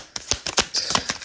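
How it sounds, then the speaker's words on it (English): Tarot cards shuffled by hand, giving a quick series of about eight crisp, papery snaps and riffles at close range, quiet and with no talking. "I'm going to shuffle these a few times before I get any cards out."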